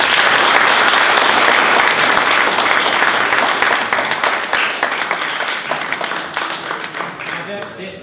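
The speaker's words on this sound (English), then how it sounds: "Round of applause." A conference audience applauds a speaker after a tech talk, loud and full at first, then gradually thinning into scattered individual claps that trail off toward the end.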